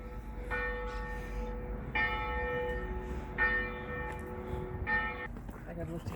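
Girona cathedral's bell tolls at noon over the city, four slow, evenly spaced resonant strikes with a lingering ring, heard from nearby amid faint outdoor background noise.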